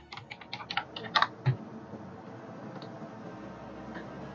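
An ID number typed on a computer keyboard: a quick burst of close key taps and clicks lasting about a second and a half, then quiet room tone.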